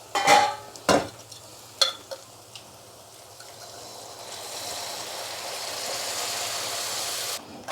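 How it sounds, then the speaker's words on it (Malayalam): Chicken stock poured into frying masala for chicken curry: a few sharp utensil knocks first, then a soft, steady sizzle that rises and holds, close by. "ചിക്കൻ്റെ സ്റ്റോക്കൊന്ന് ഒഴിച്ചു കൊടുക്കാം"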